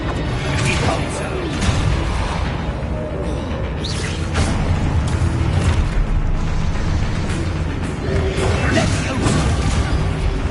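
Expulso explosion spell casts in the video game Hogwarts Legacy: repeated whooshing bursts and booming blasts in quick succession, mixed with shouted spell incantations and magical effects throughout.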